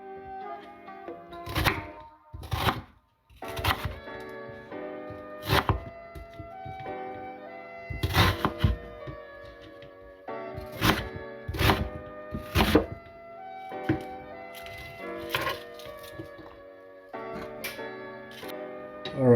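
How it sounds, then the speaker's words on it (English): A knife chops ingredients on a board for adobong pusit, Filipino squid adobo, making sharp irregular thunks in short bursts with pauses between them, close and clear with no talking. "Just chop."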